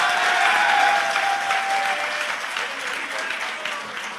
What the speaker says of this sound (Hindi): अगर आप लोग एक दफा तालियां बजा दें